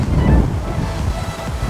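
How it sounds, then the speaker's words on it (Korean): Strong wind gusts buffet the microphone outdoors in Anyang, South Korea, a loud, rough rumbling roar that swells and eases. "지금 밖에 바람이 엄청나게 불고 있습니다"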